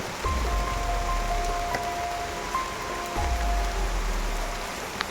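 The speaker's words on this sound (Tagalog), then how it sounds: "Grabe yung ulan mga idol." Heavy rain hisses in a dense, constant wash over everything, with low rumbles and a few faint tones rising through the downpour.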